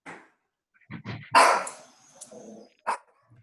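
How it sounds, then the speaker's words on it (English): A dog barks several times at home, sharp close yaps and woofs in an irregular burst over a few seconds, with no talking. "my dog's barking"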